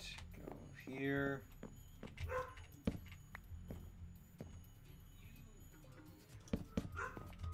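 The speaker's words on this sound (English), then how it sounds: "So she must see her reflection in the TV and think it's another dog" Pet dog whimpering and yipping at its own reflection in a TV, a few high whines and short yelps at moderate distance, alongside clicks and light indoor rustling.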